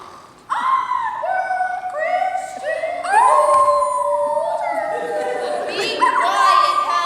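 A performer imitates a dog howling in a staged readers' theatre piece, a series of rising and falling sustained howls that run continuously and close up for several seconds.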